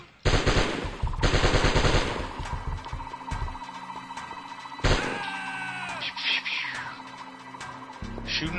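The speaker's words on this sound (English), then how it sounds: "Shooting all the dudes." Rapid bursts of automatic gunfire blast out while enemies are shot in the Die Hard Trilogy video game, loud and close at the start, followed by sharper single shots and in-game ringing effects.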